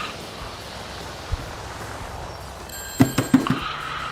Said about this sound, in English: I got like bells dinging left and right here.